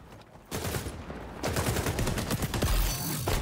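Rapid gunfire fills a firefight in the video game XDefiant, with dense overlapping bursts and volleys. After a quieter opening half-second it grows louder and more intense toward the end.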